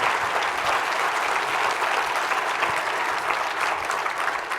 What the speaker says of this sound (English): What you do for our community, what you do for our real estate industry deserves a big round of applause.